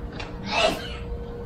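A single sneeze bursts out around the middle of the clip, close and moderately loud, over a steady low background hum.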